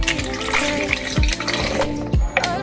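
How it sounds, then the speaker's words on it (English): Water poured from a faucet or container into a daiquiri mixture, a loud, close, continuous gurgling fill with rising pitch, heard alone. "I'm going to add a little bit of water in"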